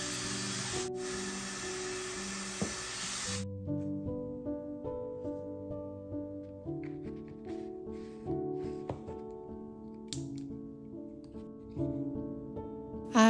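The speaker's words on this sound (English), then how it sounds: "I usually wet my watercolor on the palette an hour before I paint by spraying it with clean water." A spray bottle mists clean water onto a watercolor paint palette in a steady hiss lasting about three seconds, followed by soft instrumental music.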